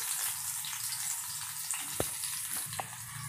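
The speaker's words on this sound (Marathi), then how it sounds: "2 ते 3 मिनिट आपण फ्राय करून घेऊया मंद आचेवरती।" Green chillies fry in a pan over a low flame, giving a steady soft sizzle and crackle with a few sharper pops, close and moderately quiet.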